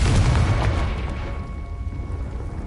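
A Confringo spell explosion goes off in a Harry Potter video game, a loud booming blast that hits at once and then slowly fades out across a few seconds.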